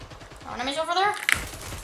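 Sci-fi weapon fire from a Splitgate match sounds in one brief burst with a short crack near the end, mixed with game sound effects.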